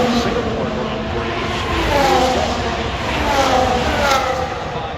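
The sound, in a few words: Formula 1 car engine, onboard with Perez at Las Vegas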